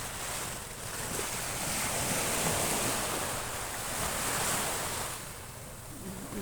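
Ocean waves on the Boracay seashore at dawn, a continuous wash of surf that swells and eases back, close and steady with no voices.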